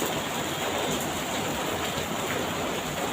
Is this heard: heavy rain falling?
yes